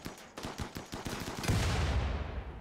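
Rapid automatic turret gunfire in the RimWorld video game, close and loud: a fast stream of sharp shots that merges into a continuous rumbling roar toward the end.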